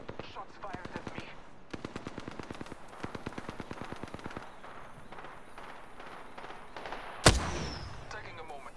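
Rapid automatic weapon fire in the battle royale game Apex Legends, dense close bursts of shots in quick rhythm followed by a single loud heavy blast and a ringing tail, with a voice briefly speaking over the combat.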